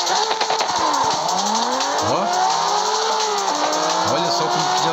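A race car in the CarX Street driving game accelerates hard, its engine note climbing through repeated gear shifts with tire squeal, loud and continuous.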